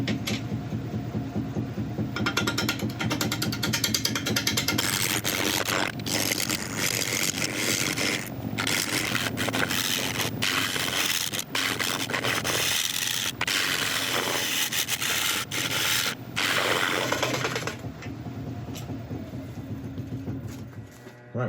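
Gouge cutting yellowheart end grain on a lathe turning at about 550 RPM, a continuous loud scraping, rasping roar with steady drive hum beneath, broken by a few brief catches and pauses before easing near the end.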